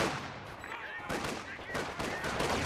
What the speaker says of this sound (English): 55 caliber sniper does get a shot off